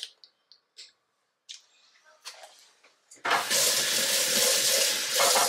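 Tap water runs into a sink to rinse a plastic dropper in a home kitchen, starting after a few scattered clicks and knocks and then flowing steadily and fairly loud to the end.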